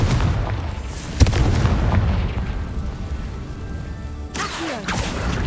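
A Confringo spell blast in the video game Hogwarts Legacy, a sharp explosive boom followed by a rumbling burst and a second whooshing blast near the end, loud and up close.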